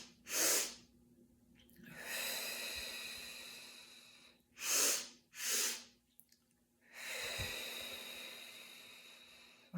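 A slow, deep breathing exercise, with soft audible inhalations and exhalations repeated in a steady rhythm, quiet and close, with no talking.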